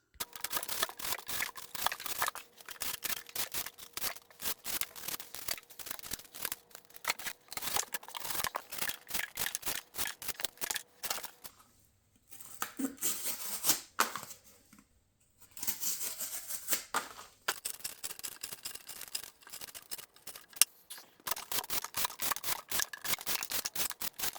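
A Spyderco Lil Native knife in 15V steel cuts through rope and cardboard, giving rapid, repeated close slicing and scraping strokes with a couple of brief quiet pauses.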